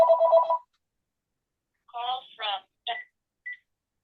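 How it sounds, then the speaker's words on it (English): A telephone rings indoors with one long electronic burst, a pause, then several shorter chirping tones that trail off. It sounds fairly close and clear. "Sorry, the phone's ringing."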